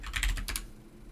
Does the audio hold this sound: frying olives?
no